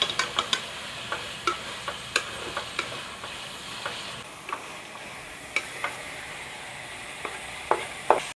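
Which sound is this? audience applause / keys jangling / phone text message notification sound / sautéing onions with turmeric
sautéing onions with turmeric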